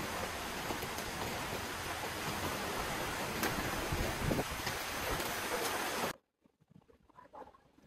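Steady rain falls outside a window, a dense, even hiss of drops lasting about six seconds before cutting off abruptly into near quiet with faint scattered sounds.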